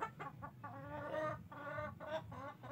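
Several Shamo chickens clucking close by in a continuous run of short, repeated calls, with no talking.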